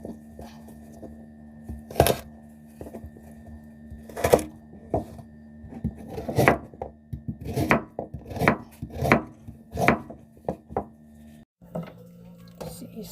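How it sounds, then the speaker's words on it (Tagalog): Knife chopping a large vegetable in half on a cutting board for Korean water kimchi, a series of close, sharp thunks, sparse at first then quicker, under soft background hum. "It's quite big, guys, so I have to cut it into half."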